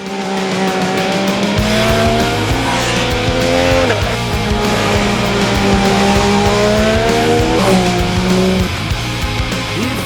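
MV Agusta 675 F3 Oro motorcycle ridden hard, a loud continuous engine howl with rising and shifting pitch through gear changes, close and constant throughout.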